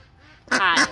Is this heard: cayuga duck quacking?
yes